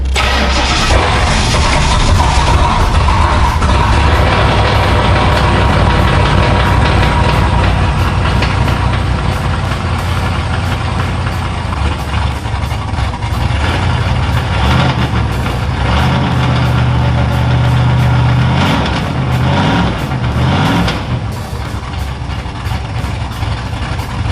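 A 1972 Ford Bronco engine fires up for the first time on a new FiTech electronic fuel injection system, cranking then catching into a loud, steady idle with rough surges and revs close by for the full stretch.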